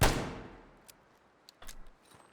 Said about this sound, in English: It sounds like a revolver.